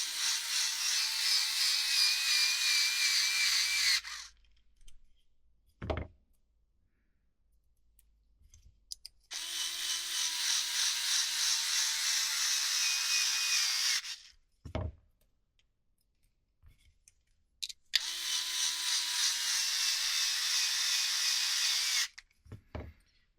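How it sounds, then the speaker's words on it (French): A power screwdriver drives screws into the rear triangle of a 2025 Genius GTC8E bike frame in three long, close whining bursts, each about four seconds, with quiet pauses and a few sharp clicks between them. "Et on vient visser."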